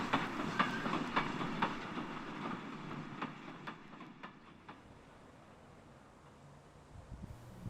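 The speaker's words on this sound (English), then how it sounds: "Here we see an excursion train for Hunstanton entering the station's eastern end." An excursion train bound for Hunstanton enters the eastern end of King's Lynn station, its wheels giving a run of rhythmic clickety-clack beats over a quiet rolling rumble that fades toward the end.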